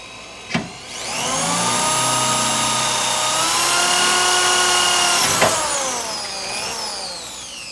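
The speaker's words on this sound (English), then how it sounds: "So I'm gonna just put the drill right here. Then we'll start drilling." A power drill whines steadily at high speed for several seconds, starting after a sharp click and winding down near the end.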